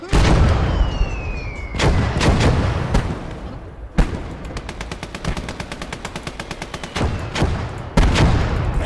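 Loud battlefield gunfire from a game battle includes heavy booming impacts and bursts of rapid automatic fire that cut off and restart. The sound is close and harsh, with no talking.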